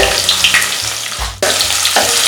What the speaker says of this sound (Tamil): நான் வெங்காயம் ஒன்றையும் அரைச்சி வச்சுருக்கேன். அதை கொஞ்சம் ஃப்ரை பண்ணிக்கோங்க